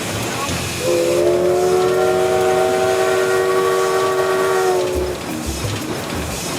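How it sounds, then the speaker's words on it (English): A loud steam locomotive whistle blows one long, steady chord for about four seconds over a background hiss, then cuts off. "Eric, what about letting me have a go on the old whistle?"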